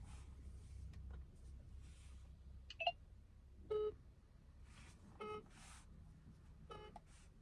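Electronic telephone tones sound in several short bursts, some paired beeps, fairly faint over a low background rumble.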